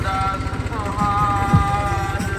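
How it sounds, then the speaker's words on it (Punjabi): A tractor's diesel engine rumbles steadily nearby at a fair with a rhythmic low chugging, faint voices and other noise mixed in. "ਹੁਣ ਅਸੀਂ ਵੀ ਟਰੈਕਟਰ ਲੈ ਕੇ ਆਏ"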